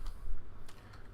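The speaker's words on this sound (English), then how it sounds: "I'm going to have to look at my keyboard a lot because I'm not used to typing in this room" Quick keystrokes on a computer keyboard, a short burst of soft clicks against a low background rumble, heard while coding a website.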